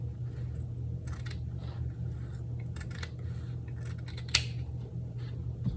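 Scissors snipping through fabric while a fabric wallet is sewn, quiet scattered cuts over a steady low hum, with one sharper snip near the end.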